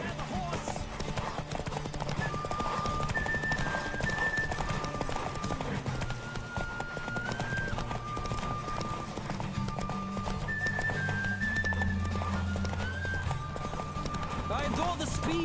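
Horse galloping in The Witcher 3, quick rhythmic hoofbeats running continuously under game music and a voice, with occasional snorts.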